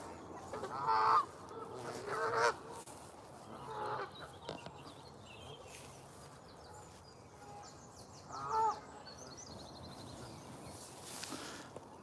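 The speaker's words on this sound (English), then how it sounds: "I think they're geese mainly." Geese at a park pond honk in a few scattered bursts, a couple of loud nearby calls with quieter ones between, against faint outdoor ambience with no speech.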